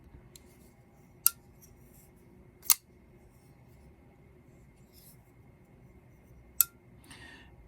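A few sharp metallic clicks and snaps from a Hinderer FireTac Triway recurve folding knife opening and closing, three crisp ones spread apart, with a faint rattle near the end, close and clear over quiet room tone.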